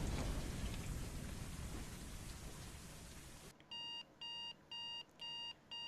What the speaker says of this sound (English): she's allowed to have an alarm clock, isn't she?